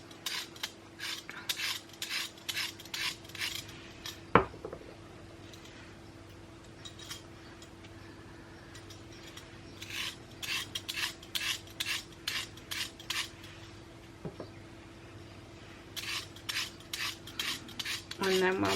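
A potato peeler scrapes rough edges off homemade bath bombs, giving repeated short rasping strokes in bursts, close and fairly quiet, with a couple of sharp clicks in between.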